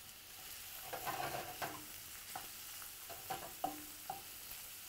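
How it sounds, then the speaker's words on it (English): Onion and garlic sautéing in oil over a gas flame, a faint, soft sizzle broken by several distinct scraping stirs of a utensil against the pan, with no speech. "we gotta start to saute the onion and the garlic"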